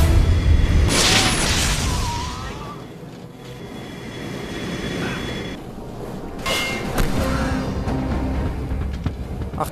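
Cannons firing in the naval video game Red Ocean, a series of heavy booms and bursts over rumbling background noise, with several loud shots spread across the clip.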